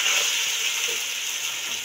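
Small onions frying in a pan of hot oil with whole cardamom, a constant close-up sizzling hiss with faint clicks of stirring and no talking.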